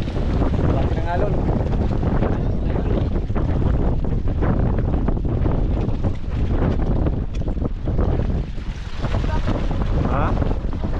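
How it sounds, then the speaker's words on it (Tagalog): Strong wind roars over a fishing boat at sea while waves wash and slap steadily against the hull, a loud continuous rush with brief surges and faint voices mixed in. "Lakas ng hangin."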